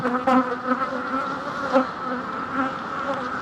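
A steady, dense buzz of many honey bees humming together at close range at a hive in mid April, with individual wingbeats swelling and fading; no voices.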